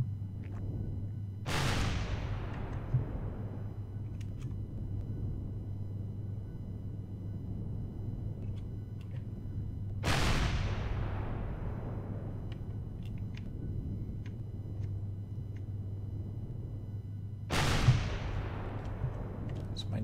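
Enemy shots fire in a space survival game: three distant booming blasts, spaced several seconds apart, each ringing out into a long rumbling decay over a steady low hum.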